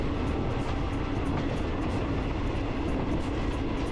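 A passenger train on Thai railway, trains 135 and 234, rolls toward Kaeng Khoi Junction station, giving a steady broadband rumble and rail roar that holds at an even level throughout, with no voices.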